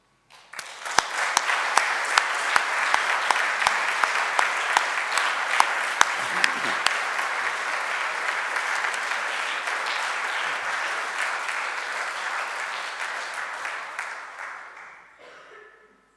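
A large audience at a wildlife trust members' day and AGM applauds steadily for about fifteen seconds, the sustained clapping fading out at the end.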